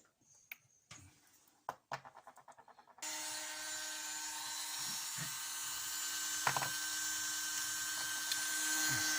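A hand drill grinds a wheel spoke: a few stuttering starts and short clicks, then a steady high whine that holds close and constant, with occasional faint knocks beneath it.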